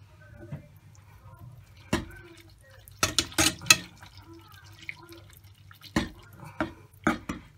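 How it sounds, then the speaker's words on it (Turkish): A whisk knocks and scrapes against a bowl while cream is beaten for banana tiramisu, in scattered clinking taps and short bursts up close with quiet pauses between. "Çırpıcıyı da çok dibine sürmemeye çalışıyorum."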